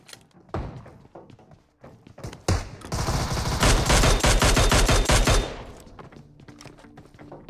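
Shotgun fire in a video game fight: scattered single shots and thuds first, then a dense, loud burst of rapid close gunfire lasting a couple of seconds before it fades to sparse hits.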